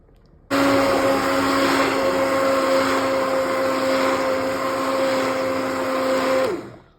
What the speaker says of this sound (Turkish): Blenderımızı hazırladık. Çorbanın içine yerleştirdik.